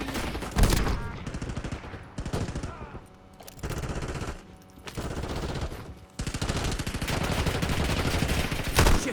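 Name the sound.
gunfire in the video game Call of Duty Warzone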